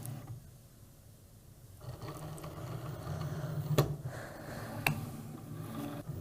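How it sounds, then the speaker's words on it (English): Cricut cutting machine loading and measuring a sheet of smart iron-on material, quiet motorised whirring and mechanical feeding with two sharp clicks, faint and close. "now that the machine has measured out the material length that I need"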